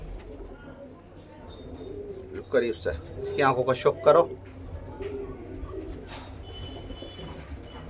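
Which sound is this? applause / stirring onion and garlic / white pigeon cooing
white pigeon cooing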